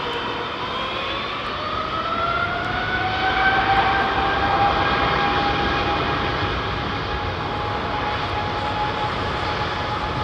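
An Airbus A319 jet airliner at London Heathrow Airport, its engines making a loud, steady roar with a rising whine, heard alone and close throughout.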